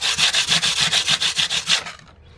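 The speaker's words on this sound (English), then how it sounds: "After you're done using the Brasso, sandpaper. I'm using 80 grit right here." Hand sanding of metal belt buckle plates with 80 grit sandpaper: a steady run of about fourteen quick, even rasping strokes, close and loud, then stopping abruptly.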